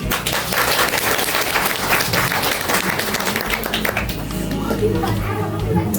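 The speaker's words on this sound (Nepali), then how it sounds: "ताली बजाऊ" Guests at a Nepali Christian wedding break into lively applause, clapping mixed with chatter and talking, before the clapping thins out and voices carry on in the last seconds.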